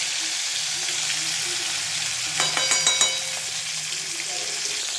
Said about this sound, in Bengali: এই যে গরম তেলে ইলিশ মাছ ছেড়ে দিলাম।